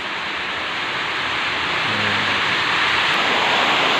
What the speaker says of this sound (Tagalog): Ngayon, narinig nyo, lakas ng ulan